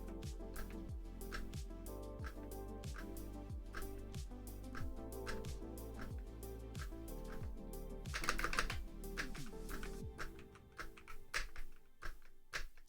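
Computer keyboard typing with hard spacebar slams, a steady close rhythm of sharp key clacks that speeds into a dense burst of rapid keystrokes before trailing off into scattered taps.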